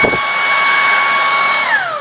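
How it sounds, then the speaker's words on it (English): A Tineco cordless vacuum cleaner, 350-watt and battery-powered, runs with a loud steady high-pitched whine, then winds down as its motor pitch falls near the end. "just picked up this Tineco cordless vacuum. It's completely cordless."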